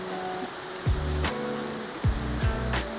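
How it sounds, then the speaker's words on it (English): Steady rain patters across the whole stretch with no voices, and a few low thumps break through now and then. "listening to the sound of this rain"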